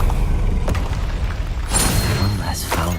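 A Confringo blasting spell goes off in Hogwarts Legacy, a booming explosive burst with rumbling low end and crackling debris, followed by further impacts and a voice speaking over the action.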